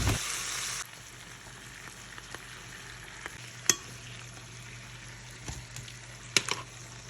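Lobster searing in a hot pan, a steady close sizzle and hiss running throughout with a few faint clicks and taps of a utensil, and no talking.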